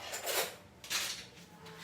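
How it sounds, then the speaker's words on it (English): Honey and tahini stirred in a Thermomix bowl: a few soft scraping and clinking strokes of a utensil against the bowl, quiet and close, with no voice. "let me give it a bit of a stir"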